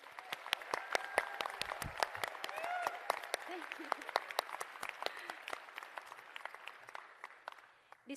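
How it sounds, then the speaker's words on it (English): Audience at a university graduation ceremony gives a sustained round of applause for the graduating class, steady dense clapping heard from a distance that slowly thins toward the end. "Please join me in giving a surrounding round of applause to congratulate the graduates of the class 2022"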